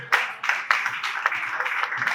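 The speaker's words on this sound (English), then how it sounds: "I think we should give these wonderful students a round of applause" Applause from an audience at a film festival ceremony for students, a steady wash of clapping with a few sharper individual claps standing out, fairly close and continuous for the whole stretch.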